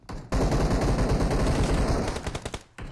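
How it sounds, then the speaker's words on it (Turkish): Rapid automatic gunfire rattles loudly in a mobile shooter game, a dense stream of shots lasting over two seconds before cutting off, then a short burst after a brief gap. "Lan arkadan kim sıkıyor?"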